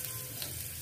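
Curry leaves crackle and sizzle in hot oil with popping mustard seeds, a steady, close, bright frying hiss for the entire short moment.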